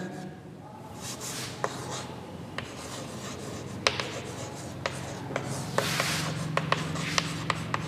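A pen writes by hand on paper during a maths lesson, giving close scratchy strokes and small taps in an irregular rhythm, with faint rubbing between strokes.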